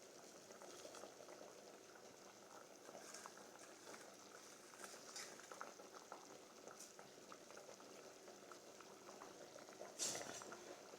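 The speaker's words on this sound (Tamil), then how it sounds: "இப்போ நல்லா கொதிச்சுக்கிட்டு இருக்கு" A pot of rice, lentils and vegetables for sambar rice bubbles at a steady rolling boil, with a continuous wet simmering hiss and small pops throughout, fairly close by.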